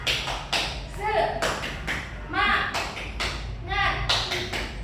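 A group performs the Indonesian 'tepuk semangat' spirit clap, sharp rhythmic clapping in short bunched bursts, with voices chanting along between and over the claps.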